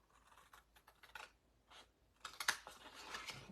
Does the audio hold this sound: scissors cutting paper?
yes